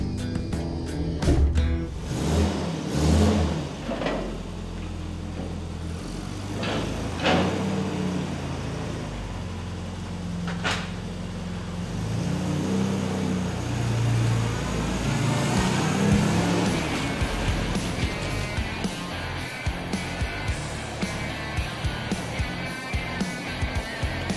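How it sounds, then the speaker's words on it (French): Engine of a classic Mini under restoration as the car drives along a road, a steady motor hum and road rumble with shifts in revs and some rattling, heard from inside the car throughout. "En soi, la voiture roule très bien."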